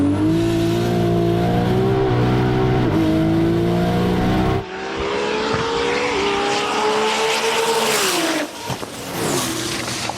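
S58-engined drag race car at a TX2K drag race, a loud close engine roar climbing through gears with sharp shifts, then a second burst of high revving and tire noise.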